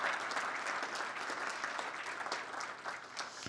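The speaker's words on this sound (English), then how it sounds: "how about another round of applause for the governors that you heard from today?" A summit audience of government officials gives applause to governors, a dense, steady wash of clapping that carries at an even level for a few seconds.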